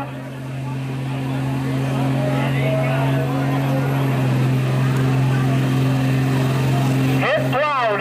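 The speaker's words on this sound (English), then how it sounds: "Getting into it, getting the RPM up, getting the turbo working." A diesel truck at an open pulling event in Charles City, Iowa, revs hard as its turbo spools, a loud sustained engine drone with a rising whistle that builds and holds, with talk mixed in.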